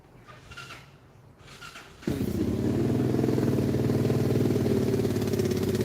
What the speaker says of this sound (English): The people with the loud motorcycles.